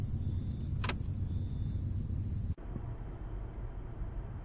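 A car engine rumbles steadily close by, then a sharp thump or door slam cuts off the high hiss midway, and a lower, quieter engine drone continues as the car pulls away.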